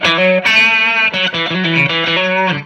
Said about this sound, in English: in this boost setting, it obviously is